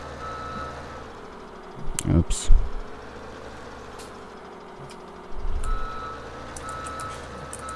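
A reversing alarm on a truck in Landwirtschafts-Simulator 17 gives steady, evenly spaced beeps over a constant engine hum, with two brief louder bursts of game noise and short spoken remarks.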